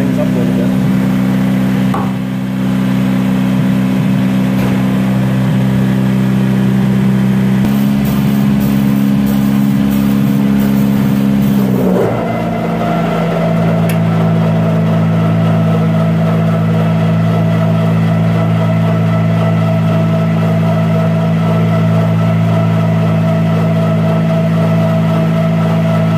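A 820 engine warming up after a spring start-up, a steady low idling drone that shifts to a higher, rougher pitch partway through and then holds evenly, loud and continuous.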